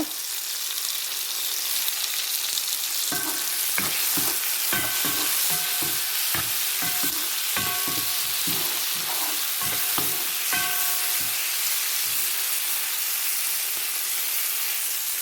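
Ingredients for prawn capsicum rice sauté in a hot pan with a steady sizzle, while a spatula scrapes and clinks against the metal in irregular strokes throughout, close and fairly loud.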